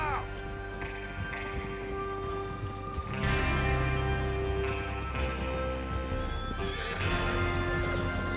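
Horses in Red Dead Redemption 2 whinnying loudly while hooves clip-clop steadily underneath, set against a continuous game soundtrack.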